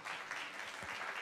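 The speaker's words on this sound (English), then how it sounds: "that's worth the applause" Brief burst of audience applause at a museum fashion event, a steady, fairly even wash of clapping over just over a second.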